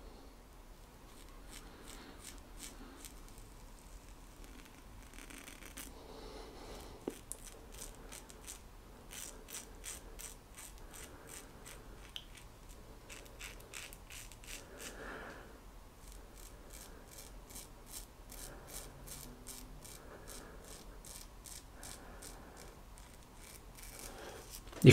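A Muhle R41 safety razor with a Gillette Super Stainless blade on its second use scrapes across the grain through Palmolive Sensitive shaving cream, giving close, quiet bursts of crisp rasping strokes in a repeating rhythm.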